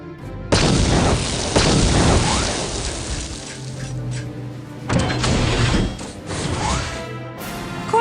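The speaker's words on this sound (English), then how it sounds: "I shall detonate the explosives." Explosives detonate in the Star Wars KOTOR video game, a sudden loud boom followed by a long rumbling roar, then a second blast rolling out and fading.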